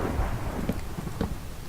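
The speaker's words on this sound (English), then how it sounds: "Now sometimes you'll hear storms, but they'll never actually come to your area." Rolling thunder from a storm in modded Minecraft, a steady low rumble with a few sharper cracks, heard alone without any voices over it.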